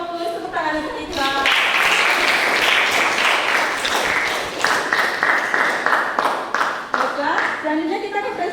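Schoolchildren clap together in a classroom during a teacher's lesson, a loud burst of applause that swells and then settles, with a teacher speaking before and after it.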